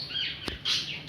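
A pet lovebird gives short, bright chirps close by, a few quick calls in a brief burst with no talking.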